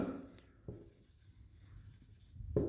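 Faint, close scratchy strokes of writing on a classroom board, soft rubbing sounds broken by a few brief taps of the writing tool, quiet with no talking.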